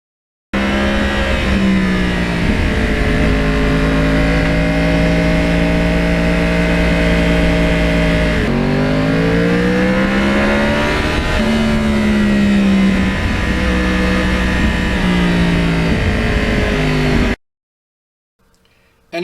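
A Yamaha R1 Crossplane motorcycle engine drones loud and close while riding, its pitch holding steady and then rising and falling through gear changes before cutting off near the end.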